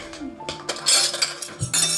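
Metal cutlery clinks and scrapes against dishes in quick, irregular taps, close by and fairly clear.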